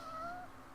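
A single short, rising-then-falling cat meow from the video game Final Fantasy XV, close and clear over a faint background hum.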